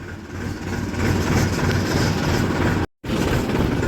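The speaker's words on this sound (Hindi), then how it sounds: "दोस्तों मैं ट्रैक्टर पे ही बैठ के चल दिया हूँ" A tractor drives toward a sugarcane field, its engine droning with a steady, loud low rumble and clattering motion, briefly cutting out near the end before resuming.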